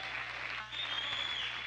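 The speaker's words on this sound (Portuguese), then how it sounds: "mais forte, aplauda o Senhor" A church congregation claps together in a dense, steady burst of applause that carries on evenly from start to finish.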